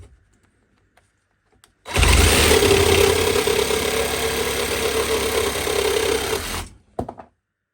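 A Parkside battery jigsaw/sabre saw in pendulum mode bites into a tree branch, starting abruptly into a loud, steady buzzing rasp for about five seconds, then cutting off.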